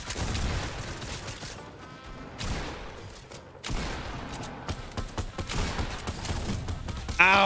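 Gunfire in the video game Fortnite, including a flintlock pistol, as loud sustained bursts of shots that rise and fall across the stretch, with brief lulls and no talking.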